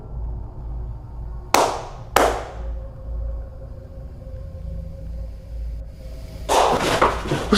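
Two sharp, isolated hand claps ring out inside an abandoned building, each with a short echoing decay, followed by quiet rumbling room tone and a louder burst of noise near the end.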